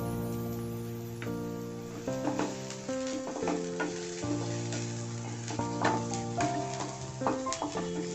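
Onions sautéing with a pinch of salt in a pan for a bread omelette, a steady sizzle broken by stirring clatter, while music with held tones plays under the cooking.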